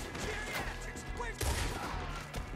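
Rapid gunfire in Red Dead Redemption 2 crackles through a busy, dense mix, with a heavier burst around the middle and faint voices underneath.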